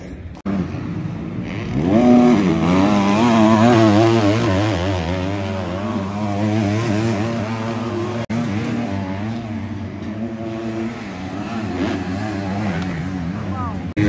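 Racing motorcycles on an Italian circuit during free practice, engines revving and passing in loud rising and falling whines, close by, with people talking over the noise.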